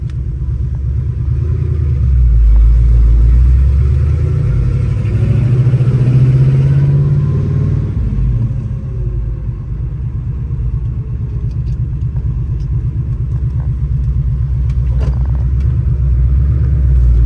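A 1967 Chevrolet Impala drives along with a steady low engine rumble that swells early on, then settles into an even cruising drone; no one speaks.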